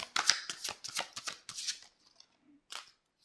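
Tarot cards shuffled in a quick run of crisp riffling bursts, then a short pause and one final snap as a card is drawn, close and clear with no voices.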